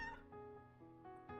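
A cartoonish cat meows in a video game, a few short tonal calls with harmonics spread over about a second, heard alone against a faint game backdrop.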